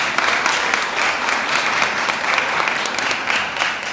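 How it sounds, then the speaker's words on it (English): An audience gives a big round of applause for Namibia's president, a loud, sustained burst of many hands clapping at a steady level throughout, with no speech over it. "So let's give Your Excellency a real big round of applause."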